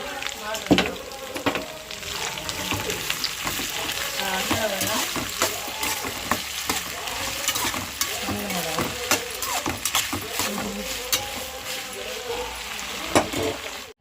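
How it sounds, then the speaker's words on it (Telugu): Eggplant fries in a pan with a steady sizzle and occasional stirring clatter, fairly loud and continuous throughout, with faint voices and household background noise underneath. "ఫ్రై అయిన తర్వాత వంకాయ వేస్తుంది"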